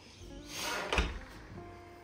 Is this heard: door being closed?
yes